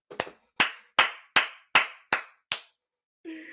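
A single person performs a Jason Garrett style hand clap: seven sharp, evenly spaced claps in a quick steady rhythm, close and loud, then a brief unrelated sound at the end.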